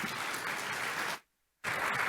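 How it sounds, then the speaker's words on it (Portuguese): Audience clapping for a speaker at a workshop on agile methodologies for small businesses, a dense, steady wash of applause that cuts off abruptly, falls silent briefly, then resumes just as full. "Un aplauso para Valdemar,"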